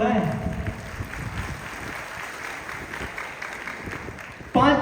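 Audience applause for bronze and silver rank leaders at a business speech in Katni, a steady dense wash of clapping throughout, with a voice briefly heard at the start and again at the end.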